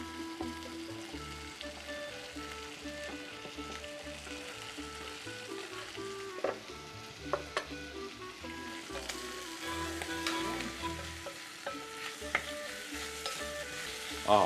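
Potatoes frying and being stirred in a pan, a soft continuous sizzle broken by scattered scrapes and clinks of the utensil against the pan.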